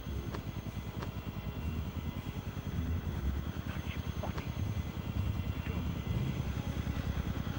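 A helicopter's rotor in Conflict: Desert Storm on PlayStation 2 chops steadily at a low, even pulse, growing louder over a constant engine drone amid background game noise.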